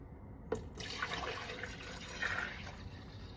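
Milk pours from a container into a plastic yogurt tub while L. reuteri yogurt is being made: a soft splash begins, then a quiet, continuous liquid stream runs for about three seconds.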